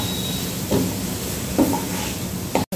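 Peas and vegetables sautéed in a pan for dhaba-style paneer masala: a constant close sizzle of frying, with a few scraping stirs of the spatula at regular intervals.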